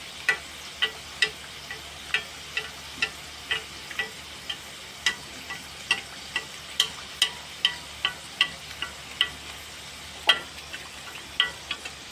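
Coconut-filled modaks frying in oil in a pan, a soft steady sizzle punctuated by regular sharp ticking pops and crackles, close and fairly quiet, with no talking.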